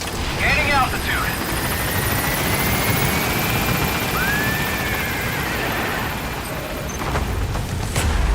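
A helicopter in Metal Gear Solid V lifts off from a hot landing zone and climbs, its dense rotor roar loud and steady throughout, with a few whistling tones and distant thuds mixed in.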